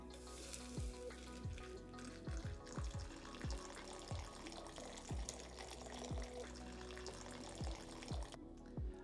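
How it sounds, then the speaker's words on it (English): Alcohol poured over frozen muddled herbs in a glass chilled with liquid nitrogen, a continuous close liquid splash and fizzing crackle running for several seconds, with scattered sharp knocks and no talk. "Now I'm going to pour over my alcohol."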